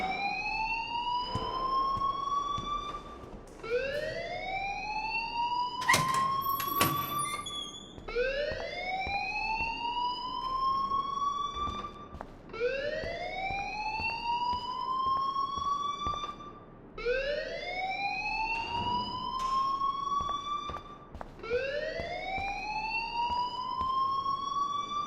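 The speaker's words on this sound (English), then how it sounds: "please turn off that alarm since that's your job" A fire alarm blares in the video game Life Is Strange, a loud electronic siren sweeping upward in repeated whoops about every three seconds, steady throughout with a few brief clicks mixed in.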